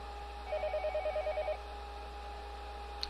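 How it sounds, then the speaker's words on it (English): In the game Higurashi, a telephone rings late at night with one clear warbling burst of rapid trilling pulses, then falls quiet over a steady low hum, ending in a faint click. "Late night phone call."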